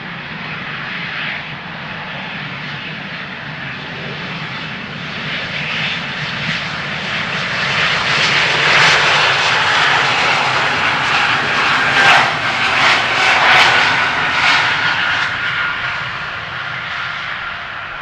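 Embraer E195-E2 jet departing runway 36L at Amsterdam Schiphol: a loud, sustained engine roar with a hissing whine, swelling in the middle and easing off slightly toward the end, heard from a distance with no talking.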